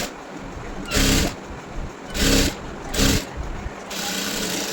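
A sewing machine stitches a blouse seam in three short loud whirring bursts separated by quieter pauses, ending in a longer steady run.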